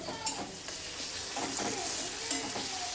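Finely chopped tomatoes sauté in a pan with a soft, even sizzle, punctuated by a couple of light clinks and stirring scrapes, fairly quiet and close.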